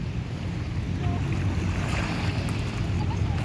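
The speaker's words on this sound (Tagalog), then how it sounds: "Ito po ang dagat mga kaunlad." Sea waves and steady wind roll along the Manila Bay shore, a continuous low rushing wash with wind buffeting the microphone and no distinct breaks.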